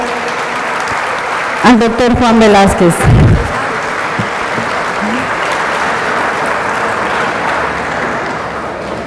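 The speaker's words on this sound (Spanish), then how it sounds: "Vamos a darle un fuerte aplauso esta tarde" A lecture audience breaks into sustained applause for a criminal lawyer after a man's amplified introduction, the clapping continuing steadily and filling the room.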